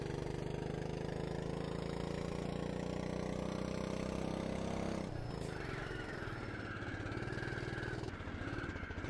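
Kart engine in the racing game Automobilista 2, a loud buzzing drone holding and rising in pitch, then a sharp shift around the middle into a lower revving note.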